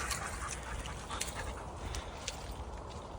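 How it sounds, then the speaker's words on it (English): A small dog panting rapidly nearby outdoors on a morning walk, a steady breathy rhythm that continues throughout. "Nice little dog that."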